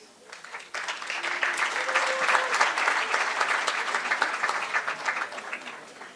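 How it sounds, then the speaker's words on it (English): A graduation audience in Gauteng bursts into applause after a brief quiet start, a thick, lively clapping crowd that holds steady at full strength for several seconds. "Can we give Dr. Oosthuizen another round of applause, please?"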